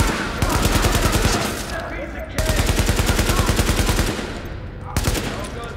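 Rapid automatic gunfire from a weapon in The Division video game rattles in long dense bursts with brief gaps, loud and close, with faint voices underneath.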